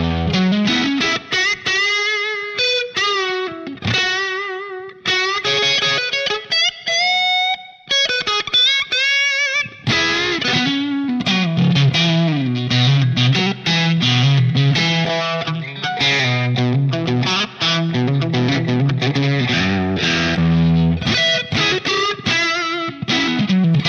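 An electric guitar plays driven riffs and chords through a Line 6 Pod HD500 modelling a bright Marshall JTM-45 amp with drive at 70, giving a loud, crunchy distorted tone, played continuously and alone.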